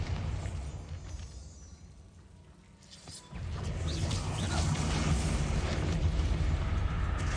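A Bombarda blasting spell in Hogwarts Legacy goes off as a loud, rumbling explosion with a crackling burst, followed by a sustained roaring wash of debris and noise after a brief quieter lull.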